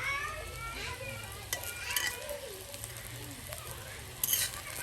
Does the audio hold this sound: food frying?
yes